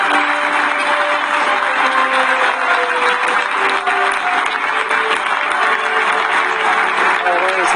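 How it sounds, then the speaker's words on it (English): Loud, continuous applause from a large crowd giving Lionel Messi a standing ovation at the Ballon d'Or ceremony, steady throughout with some faint tonal music or voices mixed underneath. "All those in attendance rise to applaud Lionel Messi"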